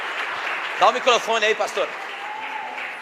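Church congregation applauding: a steady wash of clapping from a crowd indoors, moderately loud, continuing under a voice speaking briefly near the microphone.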